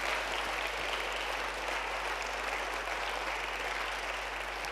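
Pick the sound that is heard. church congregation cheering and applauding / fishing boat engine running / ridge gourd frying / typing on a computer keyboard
church congregation cheering and applauding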